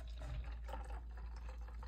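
Homemade pear, apple and ginger juice poured into a cup, a steady close liquid trickle and splash running throughout without a break.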